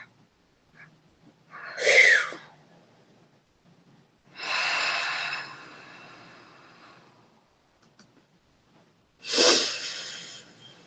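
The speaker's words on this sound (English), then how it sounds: "You might hear me breathing." Audible breathing from a workshop facilitator guiding a group, three distinct breaths: a sharp wheezing inhale near the start, a longer drawn-out exhale in the middle, and another forceful breath at the end, close and otherwise quiet.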